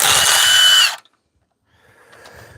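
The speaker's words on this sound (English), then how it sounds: "These impact tools sure make a quick job of this stuff." A power impact tool rattles loose old engine bolts, header and transmission bolts on a parts engine, a loud close burst for about a second that cuts off abruptly, followed by quieter workshop clatter.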